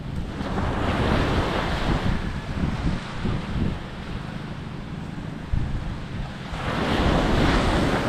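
Sea waves wash onto the shore in a steady, broad roar of surf, with strong wind buffeting the microphone throughout and a swell in loudness toward the end; no voices.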